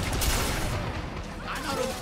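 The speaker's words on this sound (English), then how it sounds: "The Q for the Enforcer is a pretty sweet rocket launcher." Enforcer's rocket launcher fires in the Lawbreakers video game, a dense, loud burst of blasts and crackling explosive noise that fills the whole moment, with a voice talking over it.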